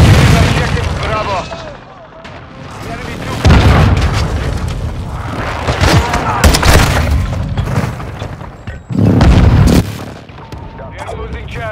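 Grenade blasts in a military shooter game with capture objectives Alpha, Bravo and Charlie, several loud booming explosions at intervals over continuous gunfire and radio-style voice callouts.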